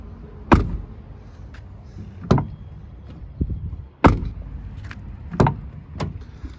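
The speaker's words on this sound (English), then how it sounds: "As you can hear, it's much less rattly when you close the door" A van door fitted with new door seals is shut firmly several times in a row, each closing a solid thud with little rattle, spaced a second or two apart.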